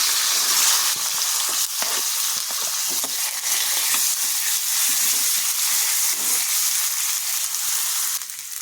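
Onion, ginger-garlic paste and curry leaves fry in hot oil in a pan for a vegetable curry, giving a loud, steady sizzle with occasional stirring scrapes throughout and no talk.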